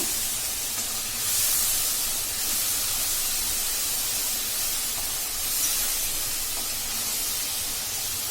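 Ginger and garlic fry in a pan with spice paste for a fish curry, giving a continuous loud hiss and sizzle that stays steady throughout with no talk.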